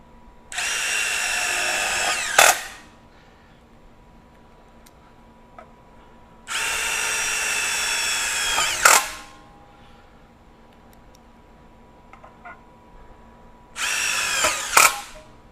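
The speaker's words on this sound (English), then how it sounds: "now I've got it in the self-tapper mode, and we've got some self-drilling screws here" A Milwaukee 2953 Gen 4 M18 FUEL impact driver in self-tapper mode whirs in three bursts of about two seconds each, driving self-drilling screws, every run ending in a sharp clack as the screw seats, with quiet pauses between.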